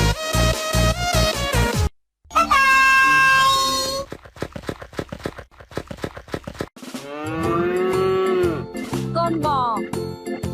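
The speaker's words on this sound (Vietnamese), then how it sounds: "Con bò." Cow moos sound over a busy musical backing, with a long, loud, drawn-out lowing call toward the end and rhythmic tones before it; no talking.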